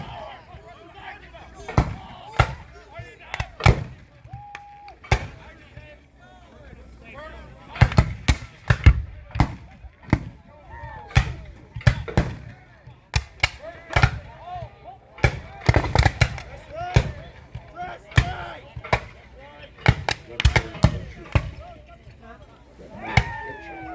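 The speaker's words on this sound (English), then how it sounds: "Close range canister was fired by cannon to create a deadly shotgun blast into the face of the enemy." Sharp, sudden blasts, like a Civil War cannon firing canister shot, go off repeatedly at close range, loud reports mixed with spoken narration throughout.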